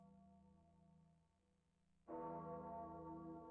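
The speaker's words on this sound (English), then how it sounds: "those bells sound like the bells in the beginning of For Whom the Bell Tolls" Church bells toll in a Sega Saturn video game, a low sustained ringing that swells suddenly into a louder, richer bell tone partway through, steady and resonant with no talk over it.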